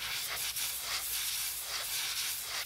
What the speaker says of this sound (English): Notice the angle that I'm holding the bait, and then how the airbrush is going over.